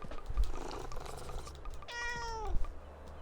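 A cat gives one clear, drawn-out meow over low background noise, close by and alone, with no talk at that moment.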